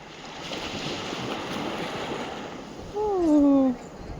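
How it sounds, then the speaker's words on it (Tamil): Light sea waves washing onto the shore beside the Kulasai Mutharamman temple, a steady soft surf rush with wind noise, and a short whistle-like tone rising over it near the end. "லைட்டாக தான் அலையே இருக்குது"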